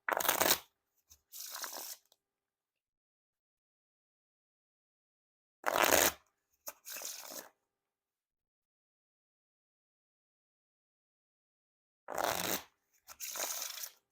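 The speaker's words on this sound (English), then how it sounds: "Now time for the riffle shuffle or bridge shuffle." Three quick riffle shuffles of Theory11 Dark Knight playing cards, each a brief crisp burst of flicking cards followed by a softer bridge, separated by silent pauses.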